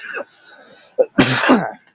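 A person coughs in a short fit: a light cough, a brief pause, a single sharp hack, then a longer harsh rasping cough, all close and loud.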